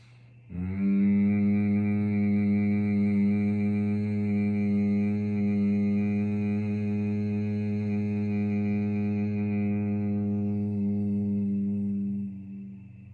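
A single long Bhramari humming bee breath during a yoga class, a steady, resonant low hum sustained for about eleven seconds at even loudness before fading out.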